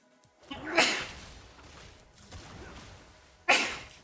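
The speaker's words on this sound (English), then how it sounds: "had to sneeze real quick" Two bursts close to the microphone, about three seconds apart, sharp and breathy like sneezes, during a League of Legends gaming session, with quieter breathing and low noise between them.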